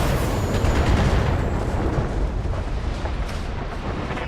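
A turret generator blows up in the BattleTech video game: a loud, heavy rumbling explosion that fills the clip and fades slowly as it rolls on.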